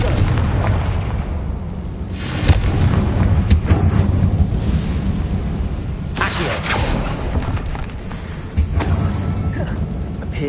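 Booming blasts from the Confringo fire spell in the Hogwarts Legacy video game, several heavy explosions going off over a steady roaring, windy background, with no one talking.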